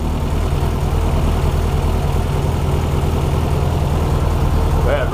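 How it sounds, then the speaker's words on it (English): A Honda H22 engine runs steadily after an alternator belt repair, a loud, constant low idle rumble close by with no squeal, and a voice breaks in briefly near the end. "Go ahead, rev it up a little bit."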